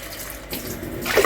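Hot water splashes and gushes into a bowl while cooking spaghetti, a short burst of continuous pouring that swells louder toward the end.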